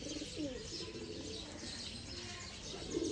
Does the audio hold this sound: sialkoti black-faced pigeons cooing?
yes